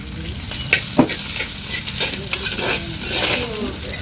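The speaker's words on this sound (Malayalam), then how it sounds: "വെളുത്തുള്ളി ചെറുള്ളി പച്ചമുളക് എല്ലാം തന്നെ ഒരുമിച്ചിട്ട് നല്ലപോലെ വഴട്ടാൻ പോവേണേ" Garlic, shallots and green chillies sauté in a hot pan for a duck curry, a close, loud, continuous sizzle broken by the scrape and clack of a spoon stirring at irregular intervals.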